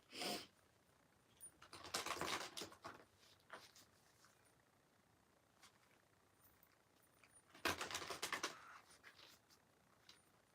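Two quiet bursts of Mother Mary oracle cards being shuffled, riffling and flapping for a second or so each, in an otherwise hushed room.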